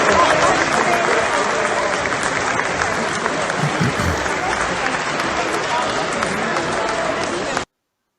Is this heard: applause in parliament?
yes